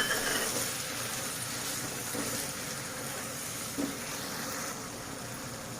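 Water used to rinse a grinding stone is poured into sizzling poppy-seed (posto) paste in a pan, making a steady, dense hiss and bubbling wash that runs throughout at close range, with no talking.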